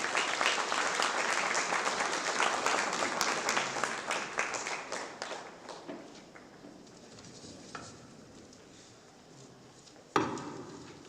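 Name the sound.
audience applause welcoming speaker on stage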